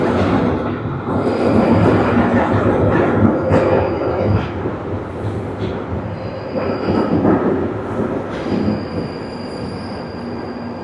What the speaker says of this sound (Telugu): లండన్లో అండర్ గ్రౌండ్ నుండి వస్తుంది ట్రైన్